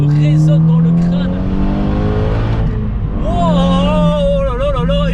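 Loud engine drone inside a tuned 370 hp Volkswagen Polo, Stage 2, with strong steady harmonics and revs rising and wavering as the car accelerates, heard from the cabin.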